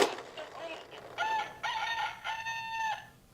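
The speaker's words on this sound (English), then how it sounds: "and the rooster says..." A rooster crows a few times in quick succession, fairly faint and slightly distant, each call a drawn-out tone, with a little background noise between calls.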